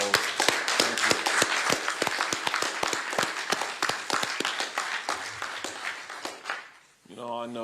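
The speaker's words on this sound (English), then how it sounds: "Join me in just giving them a round of applause." An audience gives a round of applause at a county coronavirus briefing, with loud, dense clapping that fades out near the end before a voice begins speaking.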